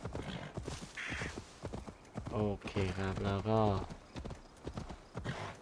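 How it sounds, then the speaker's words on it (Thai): Horse hooves clip-clop in the video game Assassin's Creed Valhalla as a summoned horse trots along, a steady rhythmic patter under a voice talking in Thai, with a brief whinny-like tonal burst midway. "เรียกม้าวิเศษออกมาก่อนเลยครับ ม้าที่โผล่มาได้ทุกที่ทุกเวลา"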